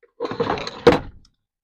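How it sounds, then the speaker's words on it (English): A drawer in a camper van slides open with a short rumbling scrape and ends in a sharp knock, close and fairly loud, then silence. "if I remove that and I open a drawer for you, I have more mess"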